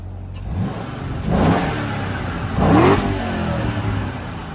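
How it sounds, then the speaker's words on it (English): A straight-piped Corvette Z06 idles with a deep, rumbling exhaust and is revved twice in quick succession, each blip swelling loudly and then falling back to idle. "what I'm gonna do real quick is just rev it up."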